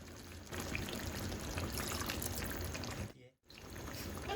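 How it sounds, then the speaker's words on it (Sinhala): Water pours steadily into a cooking pot of beef curry with a soft, splashy rush, pauses briefly, then resumes, fairly quiet and without talk. "විනාඩි 15කට පස්සේ අපි මේකට වතුර එකතු කරනවා"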